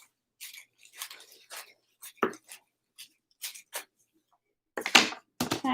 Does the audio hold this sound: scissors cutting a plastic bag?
yes